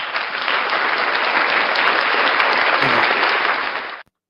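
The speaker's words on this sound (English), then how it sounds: "Round of applause for talented children." A round of applause, steady and full for about four seconds, then cut off abruptly.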